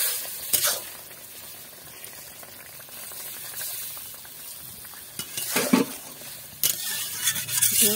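Ridge gourd curry with fish cooking in a pan, a low steady sizzle and simmer punctuated by several sharp bursts as hot water is added and the mixture is stirred.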